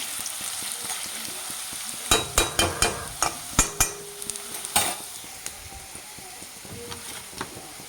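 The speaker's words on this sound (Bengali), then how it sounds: "আলুটা দেখো ভাজা হয়ে এসছে" Potatoes fry in a pan with a steady close sizzle and a quick run of sharp scraping stirs, then lighter occasional scrapes as the frying continues alone.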